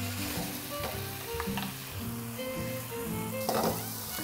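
Tofu pan-frying in a wok for a home-style braised tofu with scrambled egg gives a steady, close sizzle with occasional stirring scrapes, and no voices.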